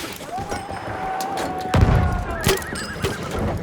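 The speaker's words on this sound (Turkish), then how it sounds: "Atlara geliyor." Horses whinny in Battlefield 1, a long neigh followed by more calls, mixed with hoofbeats, loud thuds and distant gunfire on a busy battlefield.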